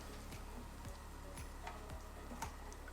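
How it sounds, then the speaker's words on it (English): Butter and oil heat in a hot pan as risotto begins, giving a steady close sizzle with faint periodic ticks from stirring. "You stir your butter and oil a little bit until it melts."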